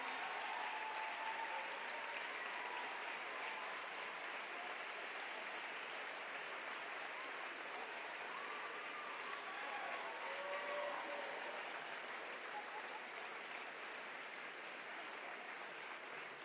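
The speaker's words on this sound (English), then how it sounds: "On peut-tu, s'il vous plaît, prendre un moment pour donner une main d'applaudissement à Stavroula, Rana, India, Alex et Rebecca." Applause from an audience at a national caucus holiday party, a sustained, even wash of clapping that continues for the whole stretch.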